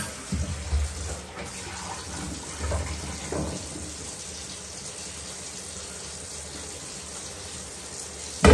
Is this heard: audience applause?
no